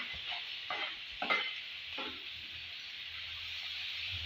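Onion and fresh tomato frying in a saucepan, a steady bright sizzle broken by a few louder bursts of crackling as the pan is stirred, close and without voices.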